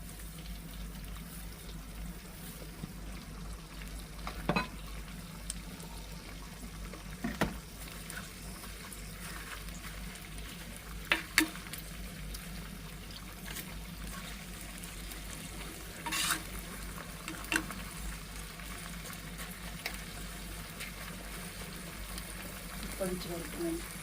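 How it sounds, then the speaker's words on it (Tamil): Herbal oil mixture simmers in a pot, a soft continuous bubbling hiss with occasional faint clicks and stirring knocks, while someone talks quietly over it. "அப்படியே எண்ணெய் இது எல்லாமே வந்து நல்லா கொதித்து கொண்டு வரட்டும்"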